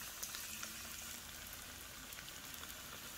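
Red carp fish frying in very hot oil in a pan gives a soft, steady crackling sizzle with small pops, faint and uninterrupted, with no one talking.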